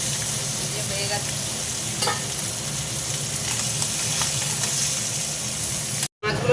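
Small river chela fish fry in oil in a wok, giving a steady, loud, dense sizzle with occasional stirring scrapes, ending in a brief dropout.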